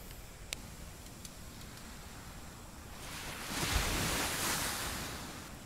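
Calm ocean waves wash onto a beach at sunrise, a soft steady surf hiss that swells into a louder rolling wash midway, with a couple of faint clicks early on and no talking.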